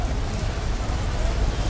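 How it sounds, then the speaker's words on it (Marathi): Heavy rain pours steadily at a bus stand, a dense, loud, even hiss of drops hitting surfaces with no break. "फुल पाऊस आहे इकडं."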